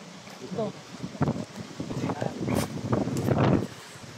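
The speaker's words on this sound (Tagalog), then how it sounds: "Ang lakas ng hangin." Strong wind gusts across an outdoor garden venue with a nearby river, rising into louder rushing bursts. People talk close by under the wind.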